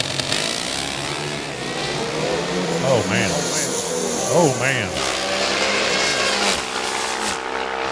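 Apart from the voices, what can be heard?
Pro Stock drag racing motorcycle engine at NHRA U.S. Nationals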